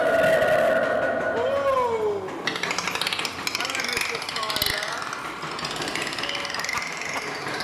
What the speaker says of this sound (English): We're going up a spiral lift hill at the moment.